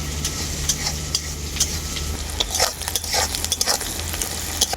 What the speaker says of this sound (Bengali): আর দেবো কুচনো পেঁয়াজ আর দেবো গোটা রাঁধুনি একসাথে খুব ভালো করে ভেজে নেব